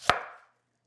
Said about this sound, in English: peel your onion and then cut off the top